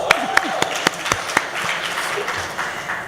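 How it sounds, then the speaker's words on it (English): A conference audience applauds, with a handful of sharp, separate claps at first that blend into a short, moderate patter of clapping across the room. "give them a very warm clap"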